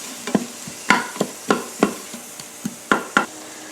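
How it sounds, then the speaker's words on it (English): Peppers and onions sautéing in an Instant Pot, with a series of distinct stirring scrapes and clacks roughly every half second over a soft, steady sizzle, close and moderately loud. "add my peppers and onions. Alright, I'm going to saute these down for about 2 to 3 minutes"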